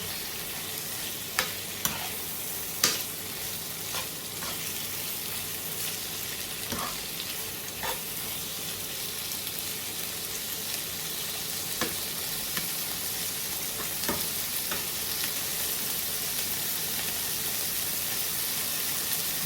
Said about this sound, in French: Donc là, on va le mélanger.